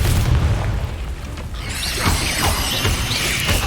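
A Confringo blast spell in a video game goes off as a deep boom with crackling burst and debris, loud and close, followed by a sustained bright rumble of fire and mechanisms for several seconds.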